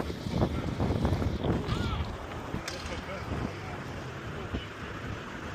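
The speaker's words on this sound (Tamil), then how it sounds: "காற்று பயங்கரமாக அடிச்சுக்கிட்டு இருக்கு" Strong wind buffets outdoors among big buildings in Canary Wharf, London, with a loud, constant rumble and gusty roar that is heaviest early on and eases slightly later.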